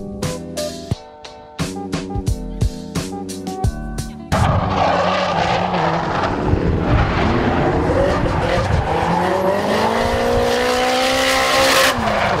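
A Rocket Bunny-kitted Nissan 180SX at a Japanese drift day: first choppy bursts of sound, then a loud close engine roar with sustained tire squeal as the car slides past, continuing to the end.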